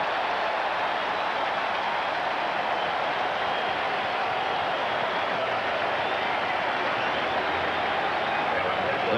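A steady, broad roar from the Fenway Park crowd at a 1986 World Series game between the Mets and Red Sox, dense and unbroken, with no distinct claps or voices rising above the mass.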